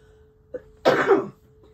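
A single sharp sneeze bursts out close by after a short intake of breath, then quiet.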